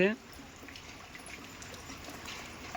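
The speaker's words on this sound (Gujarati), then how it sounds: "પણ વરસાદ ચાલુ થઈ ગયો અત્યારમાં કે ઘણો બધો પડે છે" Heavy rain pours steadily onto a tin-sheet roof, a continuous dense wash of noise that holds at an even level throughout after a brief louder start.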